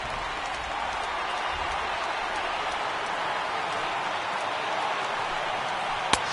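A crowd of over 39,000 at a baseball stadium roars and cheers steadily as a broad, sustained wash of noise, with a sharp crack near the end.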